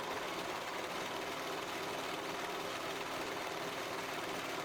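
A cheap home sewing machine runs continuously while stitching the side seams of a sweater, a steady dense mechanical whir with no pauses or voices.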